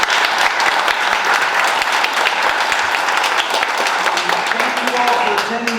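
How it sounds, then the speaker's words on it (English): An indoor audience at a community nature awards event in Homer Glen claps for the award winners, loud and sustained applause that lasts the whole clip, with a voice briefly heard near the end. "Let's give all the award winners a round of applause."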